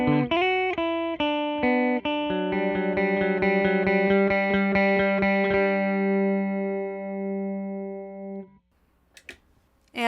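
A clean electric guitar with Seymour Duncan Broadcaster pickups plays a run of plucked notes and chords, loud and dry, then one note rings out and fades to near silence.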